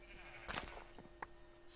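Sheep bleating inside the Minecraft video game, a couple of short synthetic bleats standing out clearly over a steady background tone, fairly close and moderately loud.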